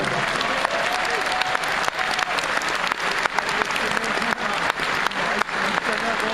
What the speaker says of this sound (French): Faut les applaudir.